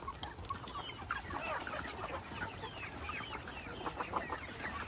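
Rhode Island Red heritage chickens cluck and chatter continuously in a flock, several birds overlapping at moderate distance, with no talk.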